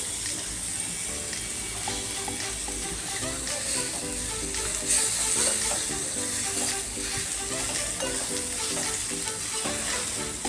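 Green chilies frying in hot oil with a little salt, a loud continuous sizzle and crackle lasting throughout with occasional stirring, close up and without talk.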